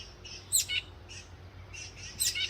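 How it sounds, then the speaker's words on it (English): A baby bird chirps in short, high bursts, a few clustered tweets repeating close by with brief pauses between. "Here's the little baby bird."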